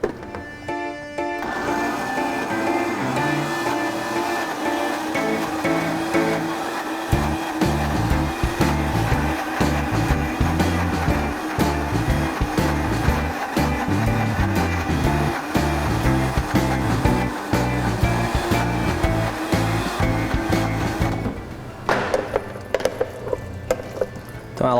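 A food processor grinds cashews, onion and shrimp into a paste for a northeastern Brazilian dish, a loud steady motor whir with a chopping, churning texture running almost nonstop for about twenty seconds.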